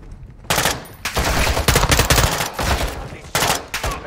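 Bursts of automatic gunfire in a Call of Duty: Modern Warfare II campaign firefight, loud and close, fired in rapid volleys separated by short pauses.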